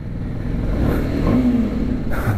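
TVS Apache RR310 BS6 motorcycle engine revving inside a tunnel, a loud, echoing mid-pitched roar that rises in pitch briefly before easing off, with no voices.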